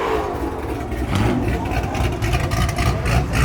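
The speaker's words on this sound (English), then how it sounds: "Little SS chopping up a storm over here." A Chevrolet SS sits with its engine chopping at a rough, lumpy idle and blipping in short revs, loud and close amid the low rumble of a busy car show with other engines around.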